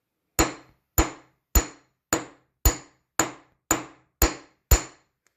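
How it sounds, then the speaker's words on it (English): Wire for scoop-shaped earrings is flattened with a hammer in nine evenly spaced, sharp metallic taps, each decaying quickly. The strikes are close and clear, with silence between them. "so I've done that hammering"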